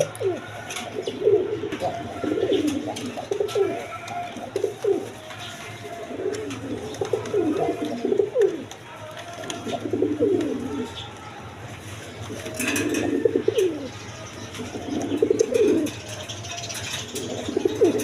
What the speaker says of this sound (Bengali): এক পেয়ার ইন্ডিয়ান বোম্বাই কবুতর আছে, রেড কালারের মধ্যে দেখেন, কোয়ালিটি সম্পন্ন কবুতর